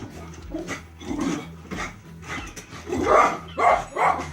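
Several dogs bark in short bursts, a handful of sharp woofs spread across a few seconds at moderate loudness, growing louder toward the end, with no talk over them.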